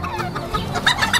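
Golden bantam chicken, a new color cross of a Red hen with a silver cockerel, clucking in short close bursts on a breeder's farm, with a few sharper high calls toward the end.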